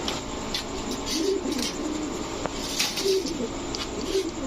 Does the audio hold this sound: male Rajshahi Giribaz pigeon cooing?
yes